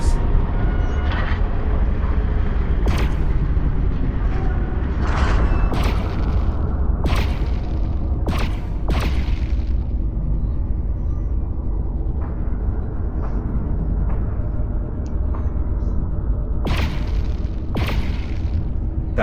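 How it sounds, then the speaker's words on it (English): Braking thrusters firing in the zero-gravity VR video game Lone Echo 2: a deep, continuous rumbling roar punctuated by repeated sharp bursts and pops, loud and close, with no talking. "Firing braking thrusters."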